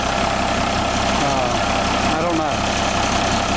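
An International truck with a 466 diesel engine idles steadily, a loud, continuous low rumble close by, with a brief spoken remark over it.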